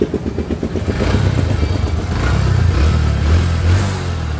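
A second-hand Honda Dream 110 motorcycle's engine runs close by with a pulsing, throbbing idle that grows slightly louder and rougher midway, then settles, loud and alone.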